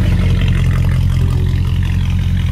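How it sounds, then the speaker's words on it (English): Loud, steady exhaust drone from a Mercedes C63 AMG fitted with headers and a full exhaust, a deep low rumble holding near-constant throughout with no talking. "this car sounds amazing"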